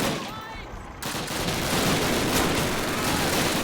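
Dense bursts of rapid gunfire crackle loudly and continuously, like automatic weapons firing in Call of Duty, after a brief quieter moment at the start.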